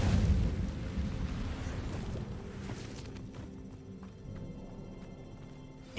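An Incendio fire spell in a Harry Potter video game bursts out as a loud, rumbling blast at the start, then fades into a lower, crackling roar that slowly dies away.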